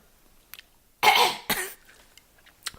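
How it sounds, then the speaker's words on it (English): A single sharp throat clearing, two quick rough bursts close to the mic, followed by quiet with faint small noises. "Clear your throat, please."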